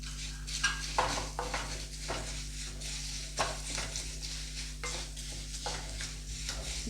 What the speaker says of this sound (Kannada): ಈಗ ಜೀರಿಗೆ ಫ್ರೈ ಆಗಿದೆ ನೋಡಿ